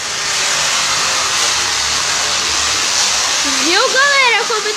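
A bicycle with a plastic bottle pressed against its tyre makes a loud, steady motorbike-like buzzing drone that rises and wavers in pitch toward the end as it speeds up.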